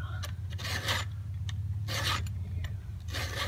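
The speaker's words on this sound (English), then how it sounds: "it took me 20 years to master how to sharpen a chainsaw" A chainsaw chain from a Stihl MS261 sharpened with a hand file, four or five distinct raspy strokes in an even rhythm over a low steady hum, close and clear with no talking.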